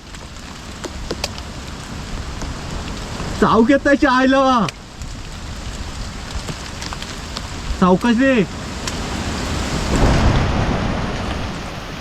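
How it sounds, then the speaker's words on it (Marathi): Outdoors during a fishing and crab-catching outing, steady rain hisses with gusting wind and a low thunder rumble building near the end, while people talk and shout over it. "वारा पण आलोय, पाऊस आलो,"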